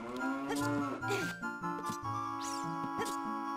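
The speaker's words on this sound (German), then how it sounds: "Haltet mal euer Maul, ihr blöden Kühe." Cows in The Legend of Zelda: Ocarina of Time moo repeatedly, loud overlapping game-sound bellows in a steady sequence, with a brief bright chime mixed in near the end.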